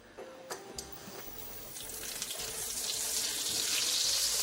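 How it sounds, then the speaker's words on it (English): Scallops hit a hot pan and begin to sear, a soft hiss that builds into a bright, steady sizzle over a few seconds, close and alone. "And in the pan they go."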